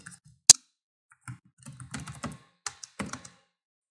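Code is typed on a computer keyboard: a loud isolated key strike, a pause, then a quick run of soft, close keystrokes with a few louder taps, no voice.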